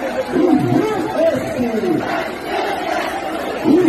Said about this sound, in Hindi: आइए यहां पर भी देखिए भीड़ जमा है।